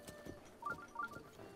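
Horse hooves clip-clop in The Legend of Zelda: Breath of the Wild, a faint, soft run of steady steps with a few chirpy game tones layered over them.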